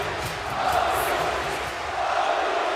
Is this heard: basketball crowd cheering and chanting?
yes